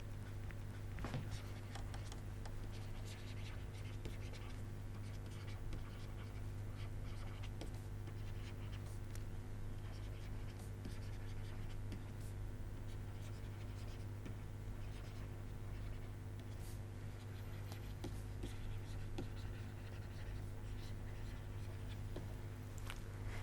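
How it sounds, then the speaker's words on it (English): Chalk or pen scratching out a sentence on a board in a quiet classroom setting, a faint, steady run of soft strokes and taps lasting over twenty seconds with no talking. "Let me write down a sentence and you guys tell me whether there is an error"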